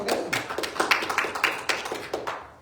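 A church congregation applauding the Lord during a service: a short run of uneven hand claps at moderate distance that thins out and fades at the end.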